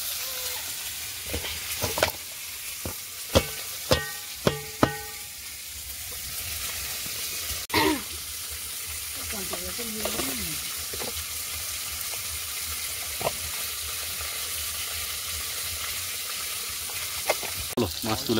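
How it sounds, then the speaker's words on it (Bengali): Fish frying in hot oil, a soft steady sizzle running throughout, punctuated by sharp utensil knocks and clinks in the first five seconds and occasional scraping, with a brief voice near the middle. "ওদিকে একরকম মাছ ভাজা হতে লাগুক"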